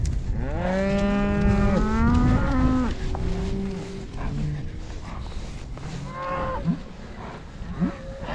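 A bull and mixed-age cows on a farm moo loudly and close, one long drawn-out low call followed by shorter, higher moos, with no talking.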